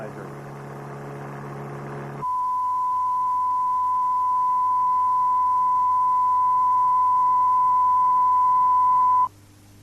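A steady, loud pure test tone holds for about seven seconds, clean and constant, preceded by a short burst of buzzing multi-tone sound.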